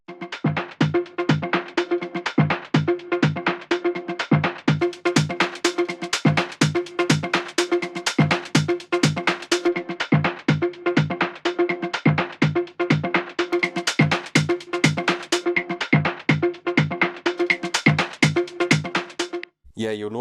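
A full music track runs through Ableton Live's Auto Filter, steady rhythmic beats with dense tonal layers pulsing evenly throughout, loud and continuous until a brief tail at the end.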